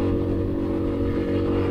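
A motorcycle with a CVT transmission hums along at low revs, a steady, close, droning engine note with a deep continuous rumble that barely changes in pitch.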